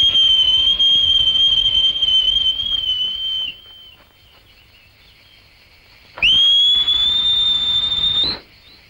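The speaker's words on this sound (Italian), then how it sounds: "Basta che faccia un fischio." A loud, piercing high-pitched whistle holds steady for about three seconds, drops away to near silence, then sounds again for two more seconds, sliding slightly upward before stopping.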